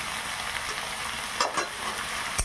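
Cut potatoes fry in hot oil in a pan with a continuous hiss, as a utensil stirs them, giving a few brief scraping accents near the end.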